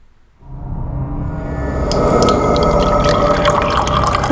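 Water runs steadily from a sink faucet while a drinking glass is washed, starting after a short quiet pause and swelling into a fuller splashing gush with small clinks and drips, close to the microphone.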